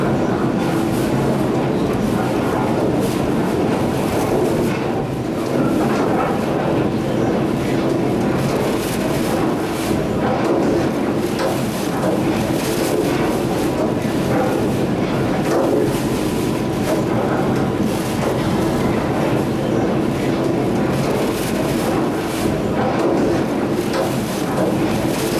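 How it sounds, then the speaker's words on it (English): Hurricane Katrina winds roar continuously around a boat, banging guide cables against its rigging amid a dense, unbroken wall of wind noise buffeting the microphone. "It's the wind is blowing around and banging against the rigging and making that banging sound that you're"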